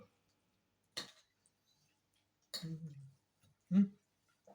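A few separate bursts of a spoon scraping and clinking in a bowl of salad, spaced out with quiet pauses between them.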